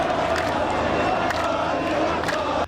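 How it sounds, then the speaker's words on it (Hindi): Protesters holding Palestinian flags outside the Israeli embassy in Amman, Jordan, chanting slogans and clapping as a dense, loud crowd roar that stays steady throughout, with massed voices blending together. "ताली बजाते हुए नारेबाजी करते रहे"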